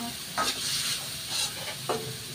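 Leftovers fried in a pan, a constant close sizzle with three quick stirring scrapes spaced roughly a second apart.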